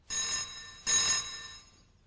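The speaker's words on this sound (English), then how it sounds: "someone's calling on the picture phone." A picture phone rings in a cartoon, two bright electronic rings in quick succession, loud and close, the second trailing off.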